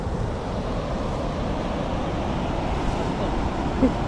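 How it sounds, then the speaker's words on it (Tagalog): Strong wind roars steadily across the microphone, a constant low rushing buffet with no pauses. "Oh, grabe nga hangin yan."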